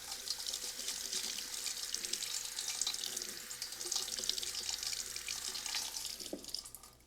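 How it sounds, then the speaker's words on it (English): Running tap water streams steadily into a sink as raw onion is rinsed beneath it, a continuous close hiss and splash that tapers off near the end. "By giving it a good rinse."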